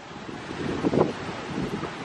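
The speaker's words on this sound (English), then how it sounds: "It's so windy." Strong wind buffets the microphone on Daytona Beach, a steady broadband roar with a louder gust near the middle and possible surf beneath, no voices.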